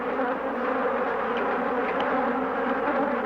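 A swarm of killer bees buzzes thickly around a beekeeper in a veil. The dense, droning hum is close and constant, with individual bees whining past.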